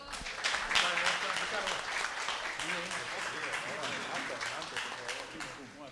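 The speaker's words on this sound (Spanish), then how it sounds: "vamos a brindarle un fuerte aplauso a los últimos que llegan" Audience applause at an Afro-Peruvian zapateo talk, a steady wash of clapping hands that swells early and holds, moderately loud and fairly close, with faint speech underneath.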